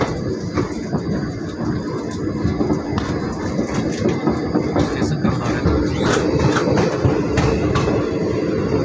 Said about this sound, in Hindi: आइए देख लेते हैं यहाँ से हमारी ट्रेन का डिपार्चर